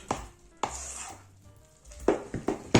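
Cranberry bread dough being stirred by hand in a few quick strokes: a handful of separate soft scraping, thudding bursts with short pauses between them, close by and fairly quiet.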